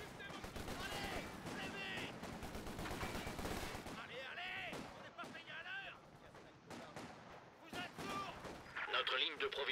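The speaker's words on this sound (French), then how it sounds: "La section d'infanterie nous tire dessus." Infantry gunfire in the World War II strategy game Company of Heroes 2: dense rattling rifle and machine-gun fire and heavier blasts, loud and continuous at first, then sporadic shots, with in-game voices speaking among the gunfire.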